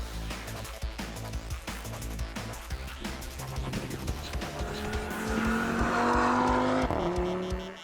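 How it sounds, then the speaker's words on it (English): A race car engine roars and revs hard, rising in pitch as it accelerates, with tires squealing under the loud, close engine note. "That engine just sounds amazing."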